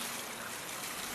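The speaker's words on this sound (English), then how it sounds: "just a little bit of water for the seed trays" Water trickles steadily from a watering can onto seed trays in a cottage garden, a soft continuous close hiss of splashing with no pauses.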